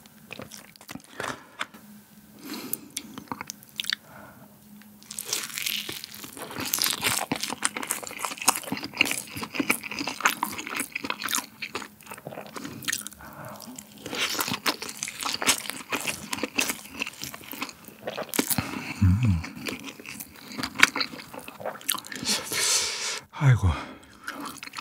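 Spicy Cheongju crazy dumplings eaten close to the mic alongside a Lotteria Mala Road burger, with repeated crunchy bites and wet chewing in irregular bursts, plus occasional wrapper crinkles and talking between mouthfuls.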